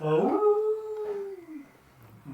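A person's voice imitates a wolf howling in the distance during a late-night fantasy tabletop role-play session. It is a single drawn-out howl that rises, holds and fades over about two seconds, followed by a quiet gap.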